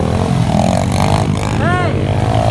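A pit bike engine droning steadily nearby as it rides over a jump, with a brief shout rising over the motor.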